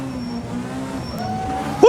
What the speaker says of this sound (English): Listen to that engine maxing out the revs.